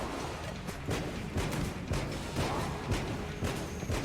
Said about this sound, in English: I hate the triple explosion sound effect I get whenever I dodge roll right now.